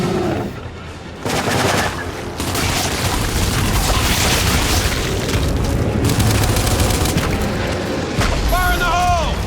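A frag grenade explodes in the video game Gears 5 amid a dense roar of booms and gunfire throughout, with shouted voices near the end.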